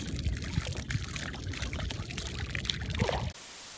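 Liquid gushes out of an upended 2-liter bottle in a bathroom, a steady glugging pour with sloshing for about three seconds before it abruptly stops.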